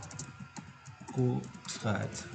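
Keys clack on a computer keyboard in short irregular bursts as a word is typed, close up and mixed with someone speaking French.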